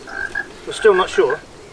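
Phone ringtone that mimics a croaking frog, sounding in a short burst of rhythmic croaks outdoors on a homestead while people talk briefly over it.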